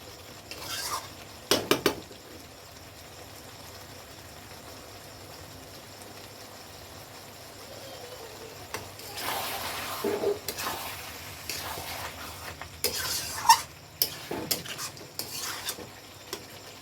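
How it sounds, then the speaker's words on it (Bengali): Mutton being sautéed in a pan for a spicy red curry, a spoon scraping and clinking against the metal in irregular bursts over a low, steady sizzle, with louder stirring toward the end. "এই দেখো আমি কষিয়ে নিচ্ছি, এখনো কিন্তু কষানো হয়নি, আরও কষতে হবে।"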